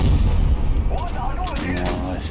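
Tank cannon fire in the mobile game World of Tanks Blitz: a heavy booming shot at the start with rumbling decay, followed by game effects and someone talking over the rest.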